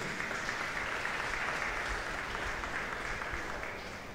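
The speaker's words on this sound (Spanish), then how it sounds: "Un aplauso para ellos." Steady applause from a church congregation during a Mass, sustained and even throughout, heard from a moderate distance with no voices over it.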